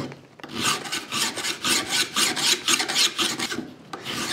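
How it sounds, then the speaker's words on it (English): A metal file scraping along the edge of a card scraper cut from an old hand saw, a rapid series of about a dozen rasping strokes, loud and close. "I can run my file across the top of the 4x2 or 2x4"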